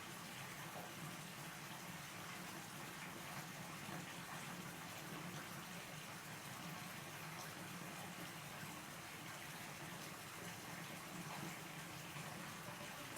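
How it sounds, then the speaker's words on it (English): Steady, continuous rush of flowing water, broadband and even throughout with no pauses and no voices. "The sound of the water"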